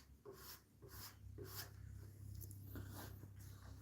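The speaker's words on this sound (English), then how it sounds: "sometimes, like I'm doing here, you want to sand in one direction" Sandpaper rubs over a painted surface by hand in one direction, making about seven evenly spaced rasping strokes, close and quiet, with a low hum underneath.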